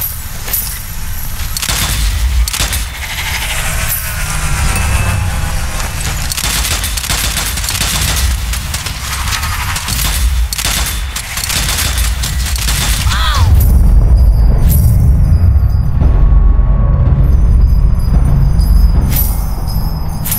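Gunfire and explosions in the video game Strange Brigade: a dense, continuous barrage of shots and heavy booms fills the whole stretch, growing louder and deeper in the final third with rumbling blasts.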